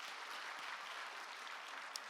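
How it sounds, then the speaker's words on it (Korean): Congregation applause in a church service, a steady wash of many hands clapping at moderate, even level throughout with no voices. "우리 박수로 축하 인사하겠습니다."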